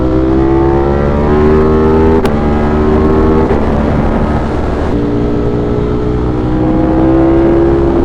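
A 2025 Ducati Panigale V4 ridden in sport mode, its engine loud and close with a rising, shifting whine as the rider accelerates through the gears and the pitch drops and climbs again after each shift.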